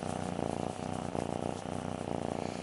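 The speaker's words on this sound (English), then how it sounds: "Hi, little cat that doesn't belong to us." A small cat purrs softly at close range in a steady, rhythmic pattern, with its breaths cycling roughly every second and no talk over it.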